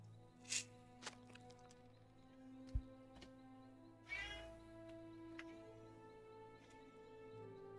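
A real house cat meows several times in short, clear calls near the microphone over a steady background of video-game music and ambient hum, with no talking.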